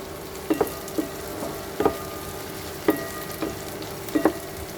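Vegetables, including green peas, are sautéed in a pan with a steady low sizzle, punctuated by several sharp scraping and clinking stirs at irregular intervals close by, with no talk.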